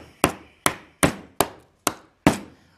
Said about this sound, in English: But I'm going to stick this in there. Well, I might hammer it in there.